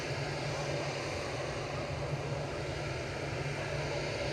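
A Gulf Air Boeing 787-9 Dreamliner arriving on runway 23 right at Manchester Airport, heard as a steady, broad jet roar that holds evenly throughout with no break, fairly distant and without talk.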